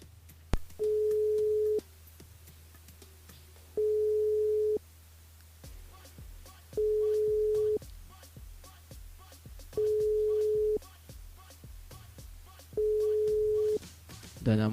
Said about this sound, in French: Le numéro que vous avez composé n'est pas attribué.